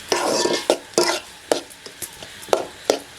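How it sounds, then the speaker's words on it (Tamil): Snail gravy ingredients frying in oil in a pan, with a steady sizzle broken by sharp, loud scraping stirs at regular intervals, close up and with no talk. "ஒரு ரெண்டு நிமிஷம் அப்படியே எண்ணெயிலே வேகட்டும்"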